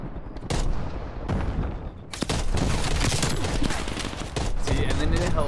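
Dense gunfire from a Type 63 rifle in the video game Black Ops Cold War during multiplayer matches, loud rapid shots and bursts packed nearly continuously with brief gaps, with someone talking underneath.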